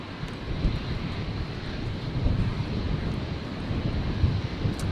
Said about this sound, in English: That wind definitely picking up